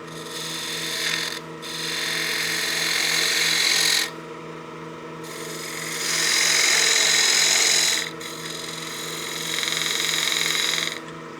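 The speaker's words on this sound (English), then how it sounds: "I'll use my spindle gouge to get a nice clean shoulder here" Spindle gouge cutting a shoulder on a wooden utility box spinning on a lathe, a steady close scraping hiss that swells and drops in several long passes over the motor's hum.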